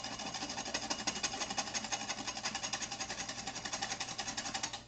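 An immersion blender with a whisk attachment whips egg whites for a soufflé, giving a steady, pulsing motor whir with a fast rhythmic beat, close and alone.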